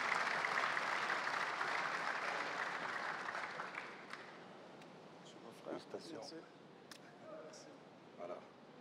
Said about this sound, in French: on applaudit Cher Diallo